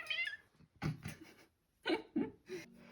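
A cat meows several times indoors in short separate calls, fairly close and loud, with a longer drawn-out cry near the end and no talking over it.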